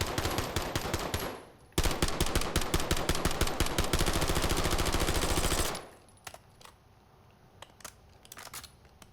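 SMG fire in Black Ops 7: a short rapid burst, then a long sustained stream of evenly spaced, sharp shots, loud and close, followed by a few scattered single shots and clicks.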